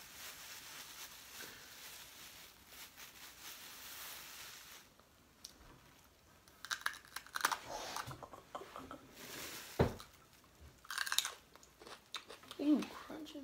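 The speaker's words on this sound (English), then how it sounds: "Ooh, crunching." Loud, close crunching and chewing of food during a spicy-versus-sweet eating challenge, with irregular bursts of mastication mixed in among people talking.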